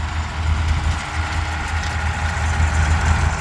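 An old tractor engine idles steadily while pulling a sickle mower through pasture for third-crop hay in Wisconsin, a low continuous rumble close by with no talk.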